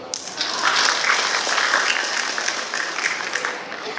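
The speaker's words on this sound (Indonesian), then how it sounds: "Lihat tepuk tangan oleh PSIM." Crowd applause for the PSIM football club, a dense, steady clatter of many hands that stays loud and even from start to finish without a break.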